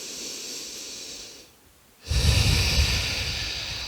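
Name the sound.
person breathing during a yoga exercise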